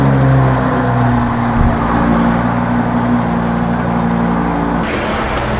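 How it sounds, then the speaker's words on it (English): Lamborghini and Ferrari engines running in a car showroom, a loud steady low rumble that fills the whole clip, close and continuous with no talk over it. "background में जो है Lamborghini और Ferrari start हो रहे हैं, so I cannot help it out"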